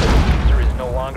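A single deep, booming detonation of a cluster charge in Rainbow Six Siege, heavy and close, rumbling for about a second with a voice over it.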